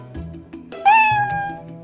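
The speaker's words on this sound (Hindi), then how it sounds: "बिल्ली जोर से म्याऊं म्याऊं करती है।" A cat meows loudly in one drawn-out, rising then falling cry, close and clear, with soft thumps and rustling around it.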